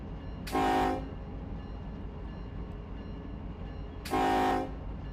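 Two separate blasts of a train whistle sound in Run 8 Train Simulator III, each a short, steady multi-tone horn note about half a second long, several seconds apart over a low, constant rumble.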